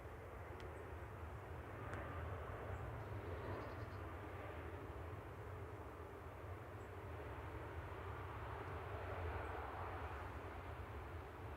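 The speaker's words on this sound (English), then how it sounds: "We've got a Ryanair taxiing out for departure on 23" A Ryanair airliner taxis out for departure on runway 23 left at Manchester Airport, a steady, distant engine drone holding evenly for the whole stretch.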